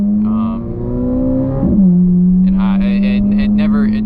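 A purple Chevrolet Corvette C8 Z06 V8 runs with a steady, droning engine note that swells and settles, close by, with a voice talking over it.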